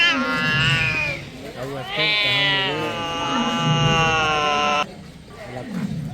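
A jungle cat at Sakkarbaug zoo in Junagadh gives long, wavering, drawn-out yowls, loud and close, two extended cries with a brief pause between them.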